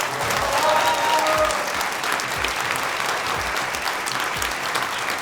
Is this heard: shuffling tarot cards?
no